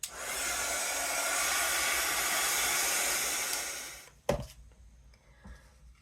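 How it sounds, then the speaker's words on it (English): A handheld crafting heat tool blows hot air to dry Posca paint on a small tree craft piece. It makes a steady close whooshing hiss for about four seconds and stops with a clunk, leaving a quiet room. "I'm going to give it a shot with the heat tool"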